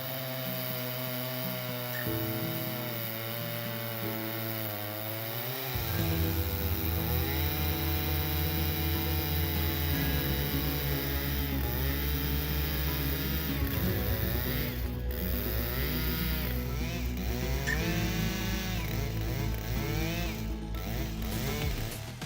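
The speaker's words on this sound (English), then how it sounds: "this chainsaw is a force to be reckoned with, handling giant tree trunks with raw power and precision." A large, powerful chainsaw of about 91 cc and over 7 HP drones loudly and continuously through giant tree trunks, its engine pitch rising and falling under load, with a steady mechanical whine and no talk.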